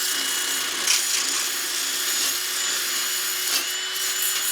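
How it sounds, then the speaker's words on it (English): Drill spinning abrasive pads to prep steel on a TD42 Patrol build, a steady, fairly faint high-pitched whir with scratchy rubbing, running continuously with small surges. "I got these little drill pads off Temu and they're going to be perfect for prepping this"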